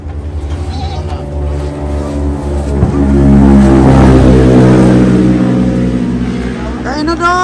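Goats bleating during a vehicle ride, wavering cries heard over a loud, steady engine drone, with people talking nearby.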